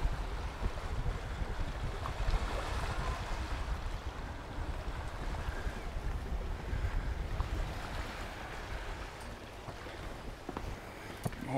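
Continuous wash of sea waves rolling and breaking at Camp de Mar, Mallorca, in the evening, steady and fairly loud, mixed with wind buffeting the microphone, no voices.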